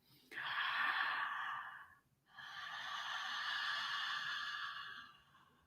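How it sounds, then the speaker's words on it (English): Two long, noisy breaths close to the mic during a breathwork exercise, breathing in through the nose and out through the mouth. The first is a breathy rush, then a short pause, then a longer, steady exhale. "Nice noisy breaths now."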